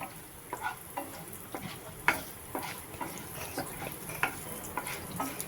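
Ingredients for chutney sauté in a pan with a soft, continuous sizzle. Frequent close scraping strokes of a stirring utensil punctuate it, and there is no speech.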